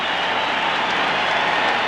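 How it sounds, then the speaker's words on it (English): A standing stadium crowd roars and applauds Mark McGwire's 61st home run at a Cardinals–Cubs baseball game, with dense, steady, loud clapping and cheering that fills the space without a break. "Everybody is still standing and applauding Mark McGwire"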